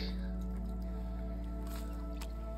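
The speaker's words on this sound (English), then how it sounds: "Here we are, just paddling down Mudro Creek" A canoe paddles down Mudro Creek in the Boundary Waters wilderness in the morning, with soft splashes and drips of the paddle against a steady low background rumble.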